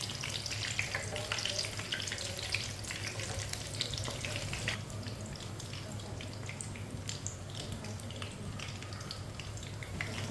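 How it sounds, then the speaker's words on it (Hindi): Chicken roast frying in a pan, a dense, steady sizzle and crackle filling the whole stretch at an even level, with no voices. "इसे 2 मिनट के लिए फ्राई कर लेना है।"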